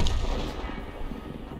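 A tank's main gun fires in an online tank battle game, specifically the Object 261 artillery vehicle, giving one loud sharp boom followed by a rumbling tail that fades under continuous low background noise.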